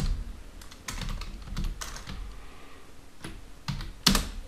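Computer keyboard typing while HTML example code is entered, irregular clusters of close, crisp keystrokes with short pauses between bursts and no talk.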